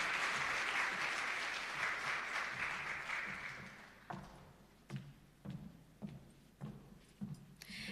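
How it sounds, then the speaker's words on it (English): Audience applause at a Ministry of Industry, Investment and Commerce rebranding ceremony, a dense, steady wash of clapping that fades after about four seconds into a few scattered thumps and taps. "Can we give her another round of applause, please?"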